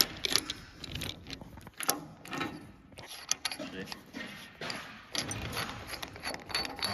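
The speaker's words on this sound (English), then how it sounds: "We're just on with changing the hydraulic couplings on the digger to these" Screw-on hydraulic coupling fittings being changed on a farm digger, quiet metallic clicks, ratcheting and clinks of fittings and tools in irregular bursts, with faint outdoor background.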